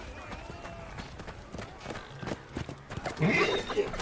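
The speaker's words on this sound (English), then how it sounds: "The dude's on horses." Horses gallop in the medieval combat game Chivalry 2, a rapid thudding of hooves with a neigh rising near the end, partly under excited gamer chatter.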